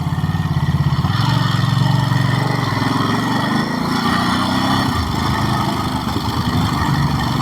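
A Ducati Monster SP 950 motorcycle engine runs hard and over-revving, a loud, close, continuous buzzing roar that wavers slightly in pitch with a slight knocking strain.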